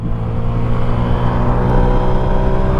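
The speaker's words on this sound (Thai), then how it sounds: "ผมจะลองรอบตัดตั้งแต่เกียร์หนึ่งเกียร์หนึ่งจนถึงเกียร์สี่" A Yamaha Finn 115i motorcycle engine revs hard against its rev limiter, a loud, close, sustained buzzing drone with a steady rumble and no gaps.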